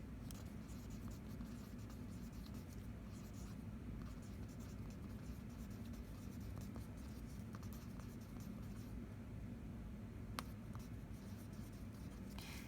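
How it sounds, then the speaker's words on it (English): A diagram of the visual pathway being drawn by hand, with faint scratchy pen strokes over a low steady background rumble and an occasional soft tap. "So let's draw those right here."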